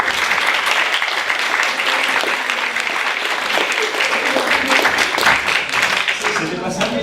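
An audience applauds a group of final-year high school students and their teachers, steady dense clapping filling the room throughout with a murmur of voices mixed in.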